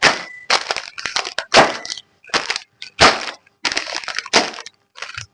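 Lays potato chips crushed by hand in a kitchen, with loud bursts of crisp crackling and crunching that come in irregular clusters separated by short pauses, close up and with no talking.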